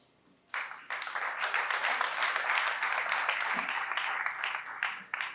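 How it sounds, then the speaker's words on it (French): Audience applause for standing department heads at a tourist-site rehabilitation event at La Nsele fish farm; after a brief quiet start, a crowd breaks into sustained, moderately loud clapping that continues evenly to the end. "nous pouvons les applaudir"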